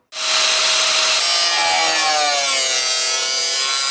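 An aluminum hood structure from a Subaru GC8 2.5 RS being cut by a power tool, a loud continuous grinding, rasping whine with a shifting high-pitched metallic tone, starting abruptly and running steadily throughout.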